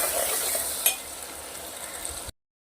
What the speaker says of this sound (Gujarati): ટામેટાને પણ આપણે થોડા શેકી લેવાના છે